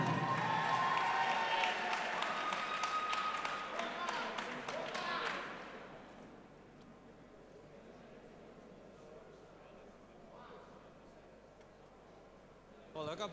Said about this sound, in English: a great show of appreciation from the crowd for the show they put on